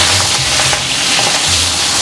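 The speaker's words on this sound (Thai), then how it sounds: "เราจะผัดกุ้งก่อนนะคะก็ใช้กุ้งลายเสือค่ะเราใส่ลงผัดเลยค่ะ" Tiger prawns stir-frying in hot vegetable oil for pad thai, a loud continuous sizzle with faint scraping and stirring, no voices.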